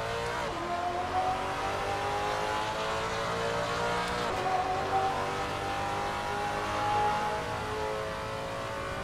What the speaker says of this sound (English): Man, I love that violent downshift.